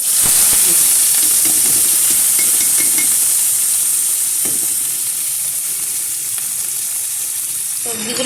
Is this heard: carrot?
yes